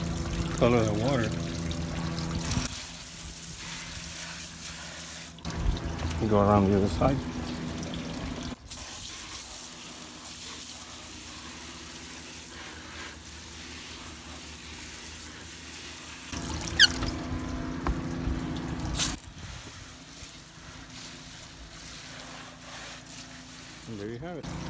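A hose sprays and splashes water steadily against a boat engine, with a few short bursts and pauses, while someone speaks briefly over the rinsing.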